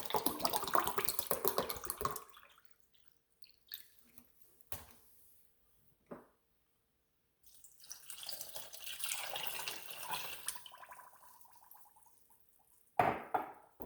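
Water runs from a tap for a couple of seconds, followed by quiet clinks and a longer stretch of bottled water pouring, then a sharp knock.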